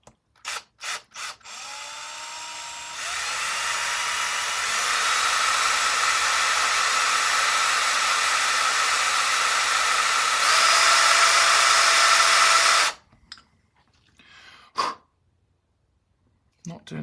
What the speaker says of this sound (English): Essentially, I'm going to swap over to this drill bit.